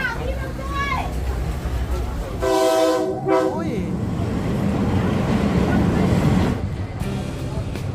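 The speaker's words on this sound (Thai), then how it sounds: "ตอนนี้อยู่ที่ สถานีรถไฟฟ้า MRT ลาดพร้าว" An MRT metro train at Lat Phrao station in Bangkok gives a brief, loud, tonal horn blast over a steady rumble of the train and platform, with people talking throughout.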